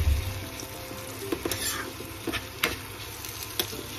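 Tomatoes hit a pan of sautéed bitter gourd and sizzle as they fry, with a loud burst at first, then steady crackling broken by a few clicks of stirring utensils; no voices.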